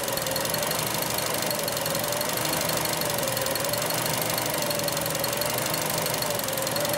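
Mazda engine with an air fuel ratio sensor fault runs steadily with a rough, knocking undertone and a constant drone throughout.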